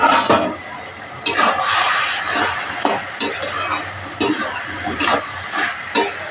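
Mixed vegetables and chicken stirred and frying in a pan with a little water, with repeated scraping stirs over a steady sizzle, close and moderately loud, no talk.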